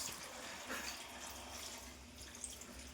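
Drinking water pours into a cooking pot, running and splashing steadily, a quiet continuous pouring with faint trickling, no voices.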